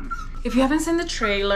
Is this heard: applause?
no